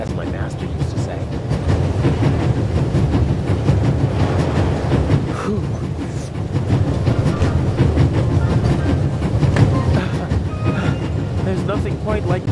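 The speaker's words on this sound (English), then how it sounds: "There's nothing quite like traveling on a train." A train rumbles along steadily in the video game The Raven: Legacy of a Master Thief, with a continuous rolling roar and faint rhythmic clatter of wheels, a voice speaking over it.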